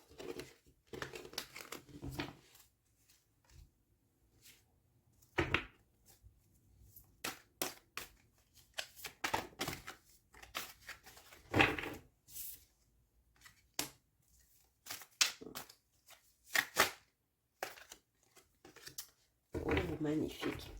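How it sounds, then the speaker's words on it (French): Tarot cards are shuffled and drawn in bursts of papery crinkling and rustling, loud handling noises separated by quiet gaps, with a voice talking between them. "Maintenant, je vais vous tirer quelques cartes conseils."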